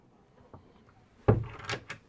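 A hanging locker door aboard a Nord Star 33+ motor boat opens with a soft click and then a louder knock and thump, close by and alone.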